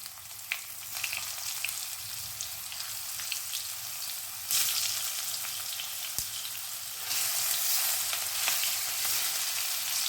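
Stuffed bitter gourds (karela) frying in a pan of hot oil, a steady dense sizzle that swells louder midway, with small clinks and stirring noises.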